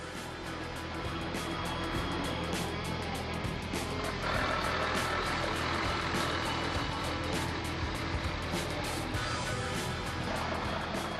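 A car on a short test drive after an O-ring replacement on the wheel bearing hub, giving steady broadband road and engine noise with wind rush throughout, fairly loud and constant with no talking.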